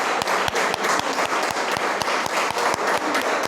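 A church congregation applauds together, a steady dense wash of clapping with rhythmic group claps standing out, continuous and fairly loud with no one talking over it.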